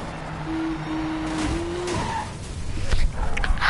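Car engine in the Need for Speed racing game surging under a nitro boost, a steady high whine rising into louder rushing roar and tire noise toward the end, close and continuous.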